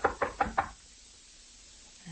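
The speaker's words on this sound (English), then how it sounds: "I'll knock." Four firm knocks on a hotel room door, evenly spaced and close, staged as a radio drama sound effect, followed by a quiet pause.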